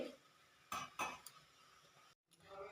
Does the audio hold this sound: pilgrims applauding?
no